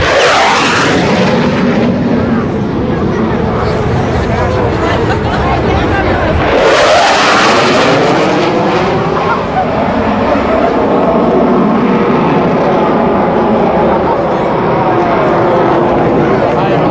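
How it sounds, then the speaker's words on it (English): US Navy Blue Angels jets at a 2005 Rhode Island Air National Guard airshow, with loud roaring passes that swell, sweep by with a whooshing pitch shift, and recede, under announcer commentary and crowd noise. "Commander Foley edges the flight line and sets up the formation for their next maneuver."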